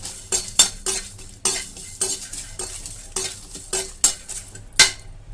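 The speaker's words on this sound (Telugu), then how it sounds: "సిమ్లో పెట్టుకొని బాగా వేయించుకోండి" Whole spices stirred and fried in a pan on low heat for chicken dum biryani, a series of sharp rhythmic scrapes and clinks of a utensil against the pan over a faint sizzle, no speech.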